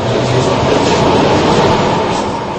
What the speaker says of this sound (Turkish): Yeni metro hattında ilk sefer yapıldı.